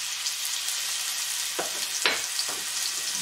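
Onion frying in a little ordinary cooking oil in a pan gives a steady bright sizzle, broken by a few quick scraping stirs partway through.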